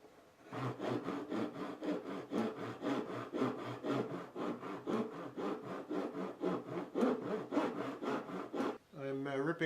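A saw in a woodshop rips a 1/8 inch wooden strip, a rhythmic series of rasping strokes repeating steadily, close and loud.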